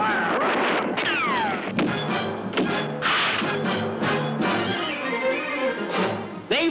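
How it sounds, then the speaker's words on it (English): Gunfire rings out in a 1966 Lone Ranger western cartoon as several sharp shots crack over a dense, busy soundtrack of music and effects, loud and continuous throughout. "Open fire!"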